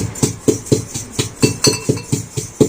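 Rhythmic pounding of a pestle crushing cumin seeds and green chili in a mortar, about a dozen sharp knocks at a steady beat, close and clear.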